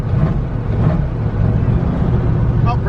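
A twin-turbo LS-swapped Fox Body car roars on the street, its engine droning loudly and steadily with dense low rumble and a brief rising rev near the end, heard from inside the car.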